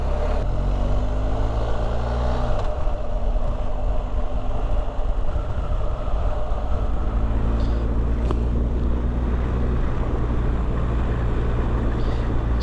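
BMW 1250GS motorcycle climbing the Col du Tourmalet pass, its engine a steady low drone beneath heavy, constant wind rush across the microphone, loud and unbroken throughout.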